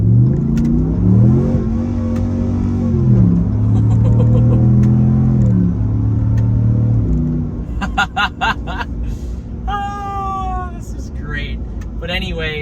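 A Ram 1500 Rebel GT pickup truck accelerates hard to pass on the road, its engine revving and rising in pitch loudly and steadily, with people talking over the engine.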